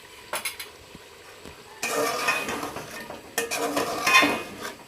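Ginger garlic paste being stirred and fried in a pan for chicken pulao, a loud sizzle with spoon scraping and clinking against the pan, starting faintly and then swelling into steady frying, with no talking.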